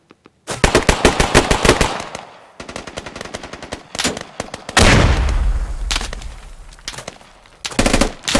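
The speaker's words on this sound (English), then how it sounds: "Shots are coming from somewhere over here." Machine gun fire in the military shooter game Squad comes in rapid bursts that stop and start, with loud close volleys, heavier booming shots and distant crackles of gunfire. No one speaks.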